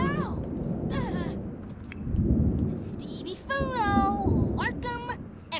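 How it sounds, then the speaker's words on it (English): Thunder rolls in The Sims 4 as low, rumbling swells under chattering game voices and a speaking person, rising twice during the stretch. "I love this thunder, y'all."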